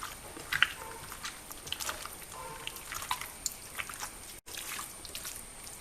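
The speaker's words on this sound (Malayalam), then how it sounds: "ഇനി നമുക്ക് നന്നായിട്ട് മിക്സ് ചെയ്ത് കൊടുക്കാം." Chicken being mixed by hand with cornflour and maida, giving soft, faint, close squishing and wet sticky sounds with small clicks, scattered throughout.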